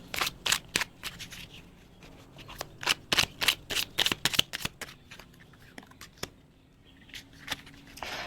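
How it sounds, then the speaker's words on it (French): Tarot cards being shuffled and laid out: quick, crisp riffles and slaps of card on card in clustered bursts, close and fairly quiet, with brief lulls between. "Je vais poser juste une ou deux cartes de tarot pour voir."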